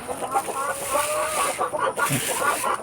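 Free-range chickens on a farm in the Philippine countryside cluck and squawk noisily, close and continuous, as the hungry flock calls out while someone speaks over them.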